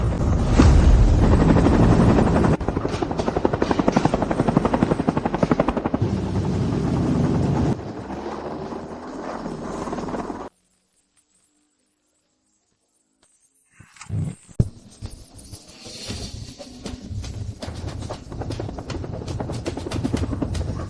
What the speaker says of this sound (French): Monsieur Grant, sur le toit, l'hélicoptère de la société y est garé.